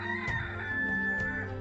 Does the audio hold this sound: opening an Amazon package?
no